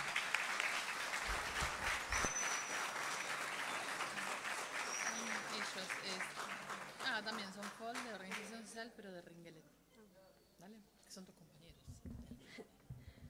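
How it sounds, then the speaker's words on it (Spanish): An audience claps loudly for several seconds, then the applause thins out as voices and talk take over. "Otro aplauso acá."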